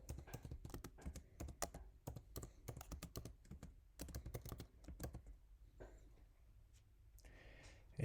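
Rapid keyboard typing into a search bar, a quick run of crisp close key clicks for about five seconds, followed by a few sparse taps and quieter background.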